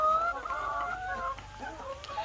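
Laying hens cluck and call in a busy chorus, several overlapping drawn-out notes near and fairly loud, with a hum of farmyard background beneath.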